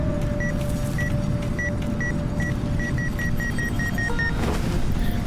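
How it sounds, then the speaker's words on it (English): An artifact detector in the video game Into The Radius 2, heard as short, thin electronic beeps that repeat at a quickening pace over a steady low rumble of game ambience, ending in a rapid run of beeps. "Now you can hear my detector beeping."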